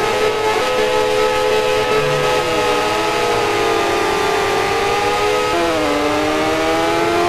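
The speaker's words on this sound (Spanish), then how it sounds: "A ver qué tal va esta moto." A MotoGP 13 race bike engine drones loud and close, its pitch rising and dipping as the throttle opens and eases, with no talk over it.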